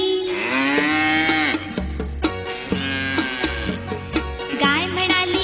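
A cow lets out long, drawn-out moos, loud and close, repeated over a rhythmic musical backing with beats underneath.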